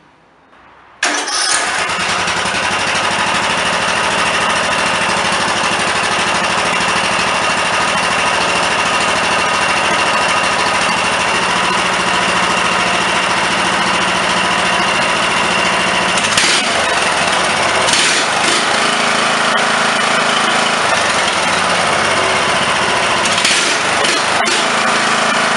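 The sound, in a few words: tractor engine running with repaired Walbro carburetor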